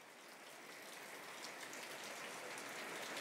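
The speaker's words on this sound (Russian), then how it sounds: "Тут идет проливной дождь." Heavy rain pours in a steady, faint hiss of countless drops, an even wash of sound with no voices.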